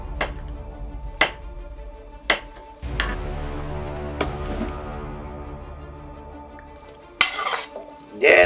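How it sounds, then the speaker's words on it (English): A knife chops mushrooms on a cutting board for a cabbage soup: a handful of sharp, separate knocks spaced a second or so apart, with a soft clatter and low kitchen hum between them. "First we cut mushrooms."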